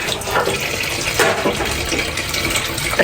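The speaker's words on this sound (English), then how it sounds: "Pour water on my face" Tap water splashes steadily onto someone's face, a continuous broadband rush and spatter up close with small irregular surges throughout, no voices.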